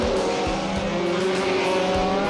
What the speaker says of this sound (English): And Jack Brabham's Formula One?